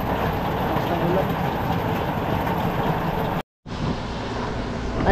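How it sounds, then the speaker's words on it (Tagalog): Heavy rain pours down in a steady, dense roar with no letup, cut off by one brief gap of silence before it resumes just as strongly. "Grabe lakas ng ulan."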